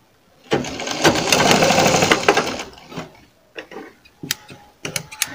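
A sewing machine runs a short burst of fast stitching along the boat neck of a blouse backed with buckram, followed by scattered clicks and knocks of the mechanism and fabric handling.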